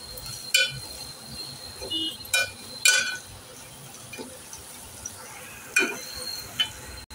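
Kashmiri chilli powder, turmeric and garam masala stir-fried in a pan, giving a faint steady sizzle broken by a few sharp clinks and scrapes of a spoon on metal, with no talk.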